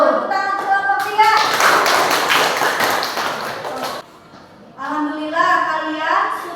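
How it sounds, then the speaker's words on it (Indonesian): Children in a classroom clap their hands in a burst of brisk, loud applause lasting a few seconds, with children's chanting voices before and after. "Tepuk tangan untuk kalian."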